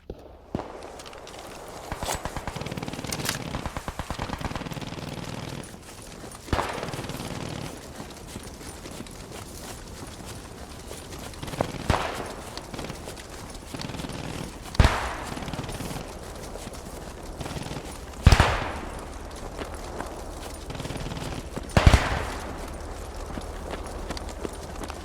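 Gunfire from enemy infantry in the video game Post Scriptum crackles as scattered sharp shots, with a few louder nearby bangs spaced seconds apart, amid footsteps and background battlefield noise.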